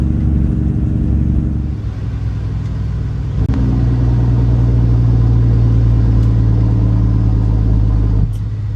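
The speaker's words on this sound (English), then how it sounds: "Riding the Jakes down." A heavily loaded, over-gross-weight semi truck descends a grade in 16th gear at about 45 mph with its engine brake on, giving a loud, steady low drone that deepens and strengthens partway through before easing near the end.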